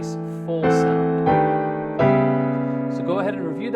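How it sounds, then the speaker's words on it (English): Rich, full piano chords voiced with added notes ring out one after another in a jazz approach, each held and sustained, with a brief voice or melodic flourish toward the end. "we are adding in some additional notes to get a nice full sound"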